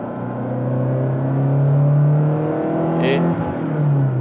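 A Lancia Delta Integrale is driven hard along a winding mixed road full of hairpins, its engine holding a steady droning note that swells and dips with the throttle, heard from inside the car.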